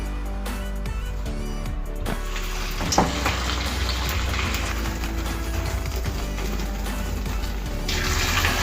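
Maize garelu fritters are dropped into a pan of hot oil, setting off a steady sizzling hiss that keeps on alongside a low background hum, with a faint knock where a fritter goes in.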